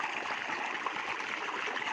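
Soft, steady rush of running water, continuous and fairly quiet, with no voices.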